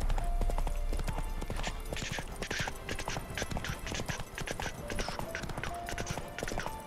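Horse hooves clip-clop in The Witcher 3, a steady rhythmic trotting gait heard close, with game ambience and faint background sounds beneath.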